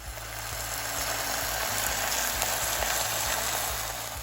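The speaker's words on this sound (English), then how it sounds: "I'm just going to sear that first side until it's light golden brown" Pork searing in a Dutch oven for slow-cooked pulled pork, a loud steady sizzle with faint crackles, alone and continuous throughout.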